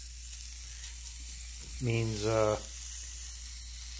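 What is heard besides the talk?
hot cast iron pan sizzling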